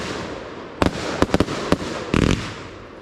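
Fireworks at a birthday party, including rockets, salutes and slices, burst as a series of sharp cracks and a quick crackling cluster, loud and close against steady outdoor background noise.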